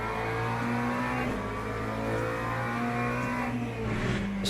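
A race car engine in the iRacing simulator holds a steady, loud, buzzy drone, its pitch rising and dipping slightly as the throttle is fed in.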